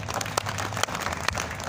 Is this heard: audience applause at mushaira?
yes